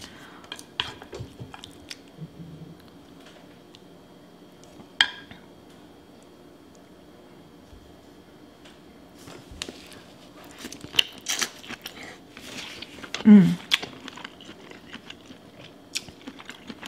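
Wet, squelchy chewing and smacking as someone eats a seafood boil of shrimp and sausage dripping in sauce, close to the mic, with scattered clicks and rustles and a few short vocal sounds.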